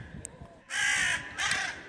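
A cartoon crow caws twice, loud and close: a long harsh caw followed by a shorter one, over a quiet background in a Hindi animated bird story.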